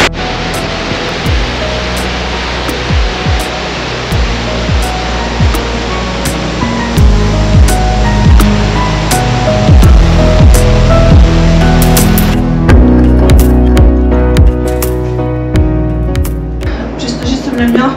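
A river in the Bulgarian Stara Planina mountains rushes loudly and continuously, a dense broadband roar with intermittent clicks and knocks over it, close by.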